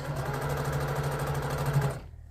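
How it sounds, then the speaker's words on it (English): A sewing machine stitches jelly roll quilt strips together with a fast, steady mechanical whir and rapid needle rhythm close by, running continuously before stopping abruptly near the end. "you're sewing the strips together"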